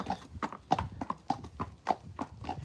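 Black Friesian horses clip-clop at a steady walking rhythm, about eight even hoofbeats, fairly faint and a little distant.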